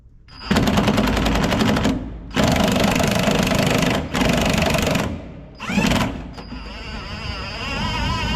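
An impact wrench works loose a rotor bolt on a Gleaner R52 combine, rattling loudly in four long hammering bursts separated by short pauses, close up and with no talking.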